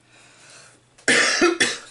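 Two loud, close coughs in quick succession after a brief stretch of quiet room noise.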